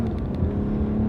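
Mazda SUV accelerating hard with tires spinning, a loud steady engine roar and whir heard from inside or close by.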